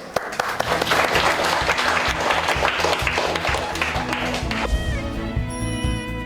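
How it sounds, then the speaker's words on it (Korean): A middle school class in Korea applauds together during a PE lesson, brisk close clapping from many students over a low musical bed, cutting off as a chiming tone takes over near the end. "다 같이 그런 의미에서 박수 한번."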